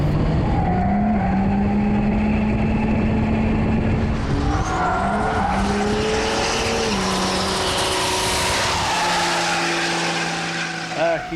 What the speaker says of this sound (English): You go about 50 miles an hour and just start doing a burnout.